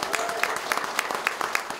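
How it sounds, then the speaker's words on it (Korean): Rally crowd applauding at a Busan political campaign event, brisk clapping from many hands with sharp individual claps standing out, briefly heard. "정청래 의원님한테 박수 한번 좀"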